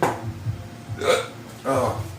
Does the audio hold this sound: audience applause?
no